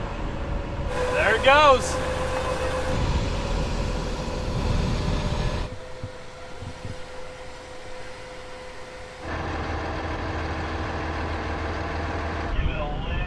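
An RV engine rumbles at low revs as it reverses out of sand near Lake Powell, with a brief rising whine early on. A steady drone continues beneath people talking.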